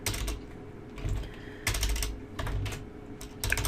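Typing on a computer keyboard during PHP object-oriented programming work, heard as several short bursts of close key clatter separated by brief pauses, with no talking.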